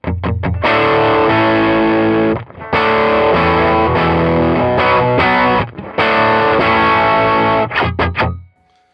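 An electric guitar runs through a Tube Screamer overdrive pedal set to unity gain with a dark tone, playing loud distorted chords and riffs in bursts with brief pauses, ending on a decaying final chord.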